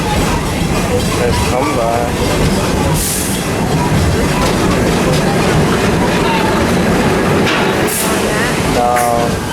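Theme park train rolling along its rails at Busch Gardens Tampa Bay, a steady loud rumble and clatter throughout with a narrator and riders talking over it.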